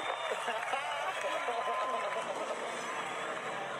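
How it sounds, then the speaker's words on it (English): A race crowd roars and cheers in a dense, continuous wash of noise, with a commentator's voice running over it. "Listen to this crowd."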